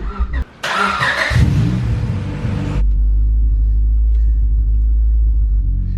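Engine-swapped Honda Civic cranking to life, a loud burst of starter and revving followed by a deep steady idle rumble as the car rolls off, close and alone without talk.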